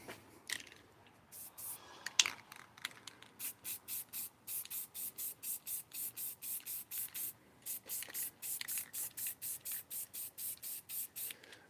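Spray paint hissing over a stencil onto a wood sign outdoors, a quick run of short bursts followed by a long steady series of evenly paced sprays, close and fairly quiet.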